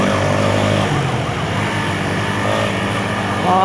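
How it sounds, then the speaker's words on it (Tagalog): A wailing emergency siren rises and falls in the distance beneath steady road and engine noise from inside a moving vehicle. "Ang layo, Ang layo ng wangwang."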